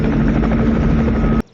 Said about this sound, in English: the sound of an army chopper which passes dangerously close overhead